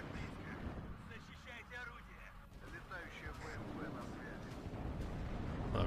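Self-propelled guns fire in WARNO, producing muffled, distant artillery thuds in a dense battle soundscape, partly under voices and rising toward the end.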